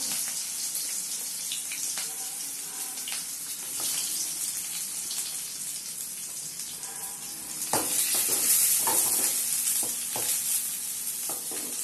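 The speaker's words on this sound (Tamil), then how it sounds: "இப்போ வெங்காயம் வந்து கட் பண்ணி வச்சுருக்கோம் இல்லையா, அதை வந்து போடணும்." Chopped onions drop into hot oil in a pan for a dried-fish curry, and a steady close sizzle swells louder midway, with scattered stirring clicks and no voices.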